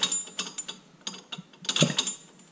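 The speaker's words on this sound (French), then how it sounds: "le Vario fait beaucoup de bruit" A scooter variator clatters and ratchets loudly during a service, giving irregular, close, gritty mechanical clicks and grinding bursts with no voices over it.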